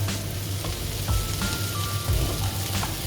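Chopped onions and celery sizzle in a pan as they begin to brown, a steady soft crackle with light pops, close and moderately quiet, alone without speech.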